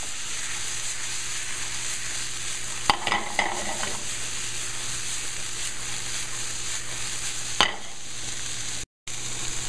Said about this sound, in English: I'm just going to give these a bit of a saute.